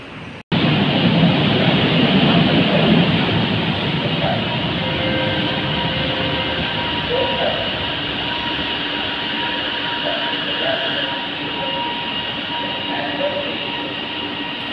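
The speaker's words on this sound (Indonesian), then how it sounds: "LRT yang menuju ke Gombak sudah tiba di stasiun Putra Hinge" A light rail train bound for Gombak rumbles steadily close by with a sustained mechanical hum and faint squealing tones as it pulls into a station in Kuala Lumpur.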